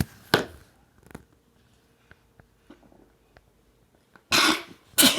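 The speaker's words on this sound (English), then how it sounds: "I had to cough." A single person coughs nearby in short bursts, one early and two harsher ones at the end, separated by near silence with faint small knocks.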